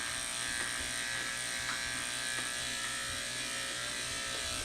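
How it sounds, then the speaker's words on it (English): An electric dog clipper buzzes steadily and close as it trims a dog's ears for a mohawk cut, one continuous even hum with no pauses and no talk. "just run the same clipper across his ears"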